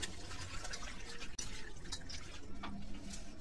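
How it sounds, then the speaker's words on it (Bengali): Hilsa fish being washed under running water in a kitchen, a steady splashing, trickling flow with dripping that carries on close and unbroken with no talking. "ঝটপট করে ধুয়ে নিচ্ছি"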